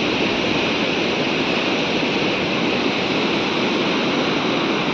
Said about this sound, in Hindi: ये घुंसा नदी जो मुझे लगता है स्टार्टिंग से ही हमारे साथ साथ चलती हुई आ रही है।